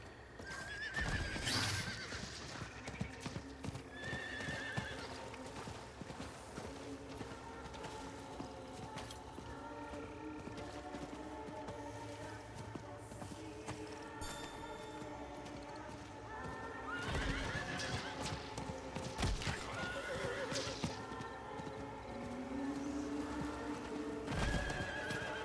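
A horse in Diablo IV gallops with rapid, steady clip-clop hoofbeats and loud neighs and whinnies, mixed with game music and ambience throughout.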